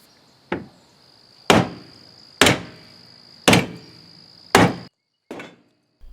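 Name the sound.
hammer beating car footwells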